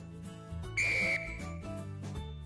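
A referee's whistle in a rugby game gives one sustained, steady blast of about half a second, heard over a bed of background music.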